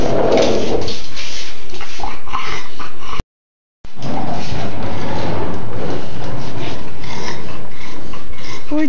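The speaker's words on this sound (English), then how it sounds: "You have to play with your skateboard this morning, Bucky." Dog noisily playing with a skateboard, a continuous loud scraping and rattling of wheels and board with snuffling and scuffling, broken by a brief silent gap partway through.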